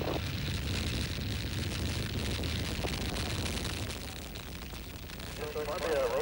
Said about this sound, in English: Three main engines up and burning. 2, 1, and liftoff of Space Shuttle Columbia